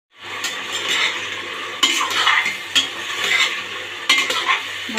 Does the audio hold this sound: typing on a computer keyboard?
no